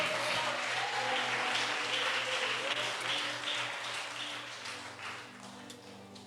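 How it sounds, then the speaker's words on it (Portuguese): A church congregation applauds, a fairly quiet wash of clapping that gradually fades over a low background hum. "pode aplaudir"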